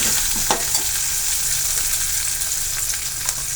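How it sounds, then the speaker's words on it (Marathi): Curry leaves and spices stirred in hot oil for a dal tadka, a steady close sizzle with a few sharp spoon scrapes and pops, no voices. "तेलामध्ये सर्व गोष्टी व्यवस्थित परतून घ्यायच्या आहेत"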